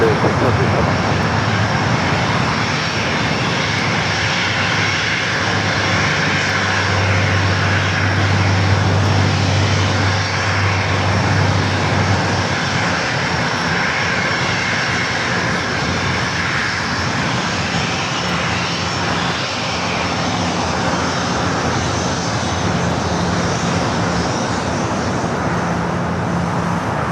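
An airliner at Los Angeles International Airport produces a constant broad jet roar at moderate distance, with traffic hum underneath and a voice talking faintly over it throughout.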